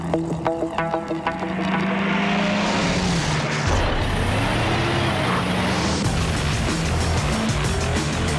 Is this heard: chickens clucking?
no